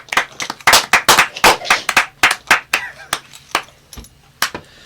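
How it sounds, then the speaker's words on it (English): A small group claps in a round of applause at a casual hosted gathering, sharp close hand claps in bursts that thin out toward the end, with faint talk underneath. "I think we need a round of applause"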